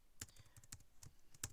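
Typing on a computer keyboard: a quick, irregular run of light, close key clicks, about eight taps in under two seconds, quiet with no voices.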